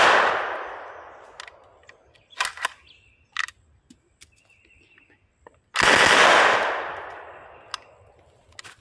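A Madsen M50 submachine gun fires two bursts of full-auto fire, one at the start and a longer one later, with the reports ringing out outdoors. Metallic clicks and handling sounds fill the gap between bursts as the gun acts up.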